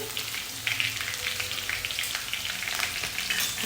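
Ginger sizzling and frying in hot oil over a high flame for vegetable hakka noodles, a steady, close crackling hiss with small popping bursts throughout and no talking.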